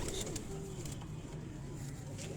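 Soft, low pigeon coos close by, a short murmuring call against quiet background noise.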